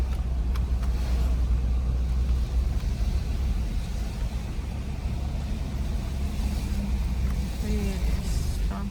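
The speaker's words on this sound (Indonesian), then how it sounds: "Jalurnya, ada mobil besar" A big vehicle rumbles along a road with a deep, steady engine roar that stays loud and close for the whole stretch, with a faint voice partly under the noise.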